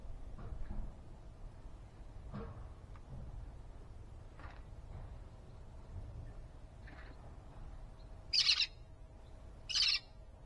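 Birds call outdoors in a garden, with a few soft chirps scattered through the first half and two louder, bright bursts near the end over a low steady background rumble.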